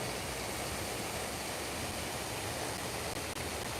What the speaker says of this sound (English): let me just show you the other waterfall